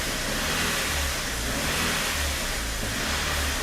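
A Vauxhall Corsa engine runs steadily on a dying battery, a loud continuous mid-pitched drone with low rhythmic pulsing and slight revving, close to the car and with no talk.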